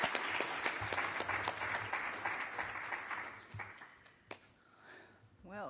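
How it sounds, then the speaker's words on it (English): An audience at a 2022 international scientific workshop gives dense, continuous applause that thins and fades after a few seconds, leaving scattered claps and a brief voice at the end. "And now I'm going to clap for you all"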